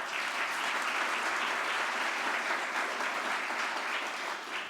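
A church congregation applauding during a Thursday novena Mass homily in Brazil: a dense, even wash of clapping from many hands, steady and somewhat distant, with no voices over it.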